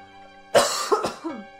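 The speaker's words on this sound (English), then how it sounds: "I still have a little bit of a cough" A single close, sharp cough with a short throaty follow-up, alone against a faint steady hum.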